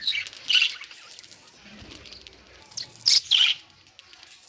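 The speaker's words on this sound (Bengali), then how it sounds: "পাখিগুলো কত সুন্দর করে আমার সামনে এসে পাতা খেয়ে যাচ্ছে" Small birds feeding on leaves close by, giving bright high chirps and squawks in two short bursts separated by quieter rustling, no voices.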